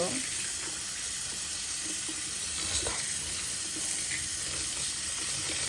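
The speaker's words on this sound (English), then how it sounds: "You wash all the starch away." Rice being washed in water to rinse off the starch, a steady wet swishing and trickling wash that runs close and continuous the whole time, with faint clinks and splashes scattered through it.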